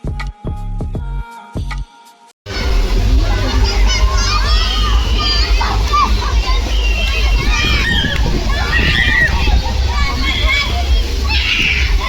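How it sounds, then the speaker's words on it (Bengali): Water sloshing and splashing at a water park slide, with a crowd of children and adults shouting and chattering throughout, preceded by a brief burst of music. "এর ভেতরে বসে তুমি ডাইরেক্ট জলে গিয়ে পড়বে।"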